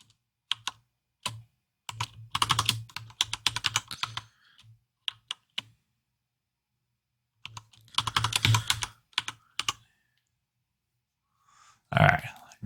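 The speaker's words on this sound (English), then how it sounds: "So now that I'm typing." Someone types on a computer keyboard during a Windows Server lab exercise, bursts of fast, close clicks separated by pauses, with a brief louder noise at the end.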